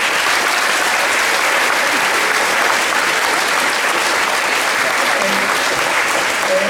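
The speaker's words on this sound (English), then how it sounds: "Let's have a round of applause for our panelists." Sustained, dense audience applause fills the room for debate panelists, steady and loud throughout with no pauses.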